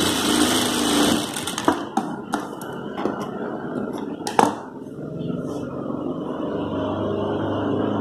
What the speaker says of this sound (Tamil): இங்கே ரிவர்ஸ் ஸ்டிச் கண்டிப்பாக போடணும்.